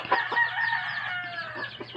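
A native chicken clucks loudly and close by, a run of short throaty calls with a drawn-out squawk in the middle and a low hum underneath.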